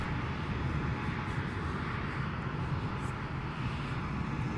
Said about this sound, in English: I feel like that's a helicopter that's being rendered as an A319.